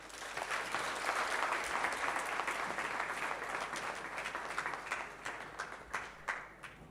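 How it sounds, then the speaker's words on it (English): Audience applause fills an expo hall at a libraries-of-the-future event, a dense, steady wash of many hands clapping close by that gradually thins and tapers toward the end. "Can we give another round of applause, please, for those powerful words?"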